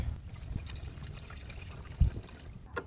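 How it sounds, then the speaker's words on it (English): Homemade windshield washer fluid mix poured into a gallon container, a soft, steady trickle of liquid with a faint splash partway through. "Pop this open and pour your mix in."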